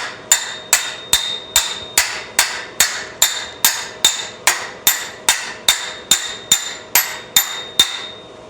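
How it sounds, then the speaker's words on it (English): A hammer taps a sheet metal patch near a car's headliner bow, roughly seventeen evenly spaced, ringing metallic strikes in a steady rhythm, close and clear, with no talking. "Letting the weight of the hammer do the work for me."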